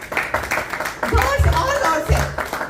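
Scattered clapping from a church congregation at a Pakistani Punjabi Christian fellowship service, uneven and mixed with voices and a low thumping beat, a few louder bursts standing out.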